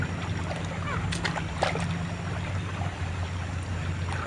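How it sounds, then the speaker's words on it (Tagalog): A strong, swollen river runs in a steady broadband rush, with occasional splashes and a low rumble underneath, continuous and close by. "Ayan, lumakas na ang tubig oh."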